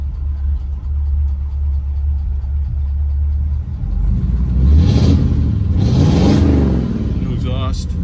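A 1940 Ford Deluxe Convertible Club Coupe with new mufflers idles with a steady, close low rumble, then revs up in two rising swells before settling, while people talk nearby.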